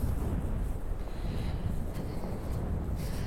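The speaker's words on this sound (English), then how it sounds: "a lovely beach on a windy, windswept day" Strong wind buffets the microphone on a windswept beach near Blackpool Tower, making a steady, heavy low roar with a gusty, rumbling texture. No voices or other sounds break through.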